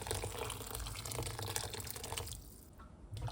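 Water gushes steadily from a kettle over pasta in a continuous splashing pour, cutting off near the end, no voices.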